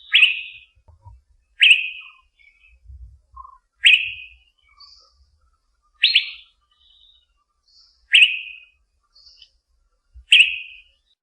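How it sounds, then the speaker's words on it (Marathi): Song of the Asian fairy bluebird from dense treetop foliage: six loud, clear whistled phrases repeated at roughly two-second intervals, each a sharp descending liquid note, with faint low rumble between them. "Asian ferry blue bird"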